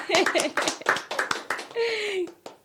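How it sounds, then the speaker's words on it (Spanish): A small group claps for itself after a discussion on water stress and mental health, several short bursts of close, uneven hand claps mixed with cheering and excited voices. "terminamos con un aplauso para nosotros"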